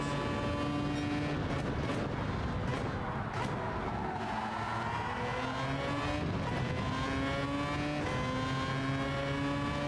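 Race car engines roaring and revving in a GT racing video game at Interlagos, several engines droning together with shifting pitch as cars overtake, loud and continuous throughout.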